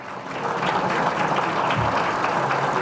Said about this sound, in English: how about a big round of applause once again for our servers this morning